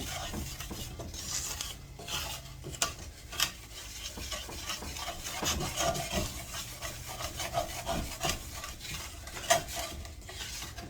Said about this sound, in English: Scrape all that goodness off the bottom.